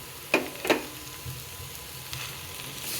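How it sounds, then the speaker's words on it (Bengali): Poppy seeds, white sesame and tomato go into a pan of fried beetroot, bringing two quick clattering knocks followed by a soft, steady sizzle that stays fairly quiet and close. "বিটটা ভাজা হয়ে গেছে, এবার পোস্তটা দিয়ে দিলাম। পোস্ত, সাদা তিল,"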